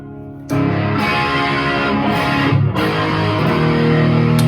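A 1993 Rose Morris reissue Rickenbacker 12-string electric guitar, tuned half a step down, rings out with distortion, sustained chiming chords sounding loud and up close after a brief quiet start.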